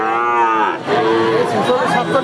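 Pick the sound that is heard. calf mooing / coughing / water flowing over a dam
calf mooing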